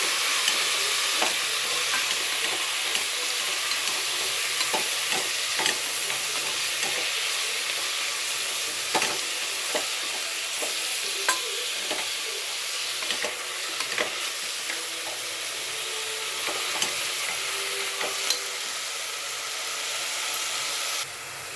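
Amaranth greens and moong dal frying in a pan, a continuous loud sizzle and hiss with frequent scraping clicks of a spatula stirring, spaced irregularly throughout.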